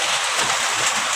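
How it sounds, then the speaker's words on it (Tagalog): Rain falling in the countryside, a steady loud hiss of drops that fills the short stretch evenly without pause or talk. "Ulan na."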